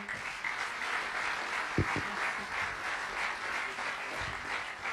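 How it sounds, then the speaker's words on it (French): Applause from an audience at an award ceremony for an international action trophy, a steady dense patter of many hands sustained throughout, moderately near. "Vous pouvez encore l'applaudir."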